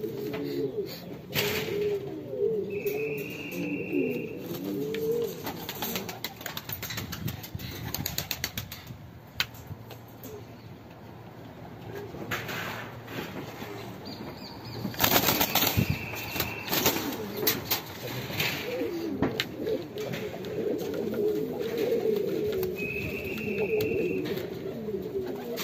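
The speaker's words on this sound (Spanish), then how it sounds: "Qué hermosa paloma." Argentine buchón pigeons in a loft coo continuously in low, rolling murmurs, joined by occasional wing flaps and faint higher chirps, moderately close throughout.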